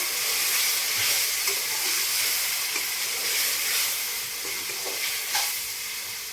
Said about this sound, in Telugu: చికెన్ వేసుకొని కలుపుకోవాలి.